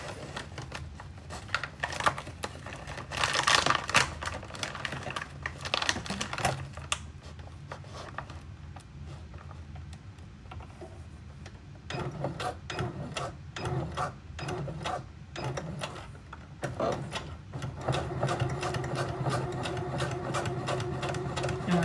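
A sewing machine stitches the seams of a bag in bursts of rapid mechanical rattling, pausing and restarting several times, with a brief back-stitch near the end; no one speaks.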